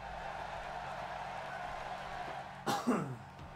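A single short, rough cough or throat-clear breaks out near the end, close to the mic, over a steady low hum from a wrestling game running in the background.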